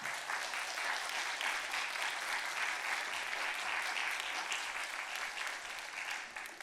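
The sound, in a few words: applause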